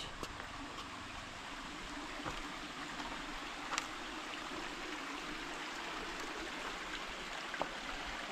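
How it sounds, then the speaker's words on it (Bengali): A hillside waterfall in the Darjeeling area of North Bengal pours down into a stream, giving a steady, even rush of water with a few faint clicks and no talking. "এখান থেকে দেখুন একটা ঝর্ণা নেমে আসছে"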